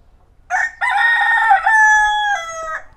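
A hefty Aseel rooster on a farm crows once, loud and close: a short opening note, a brief gap, then a long sustained call that trails off, with nothing else behind it.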